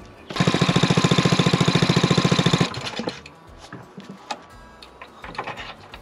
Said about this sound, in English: Gonna use some sandpaper.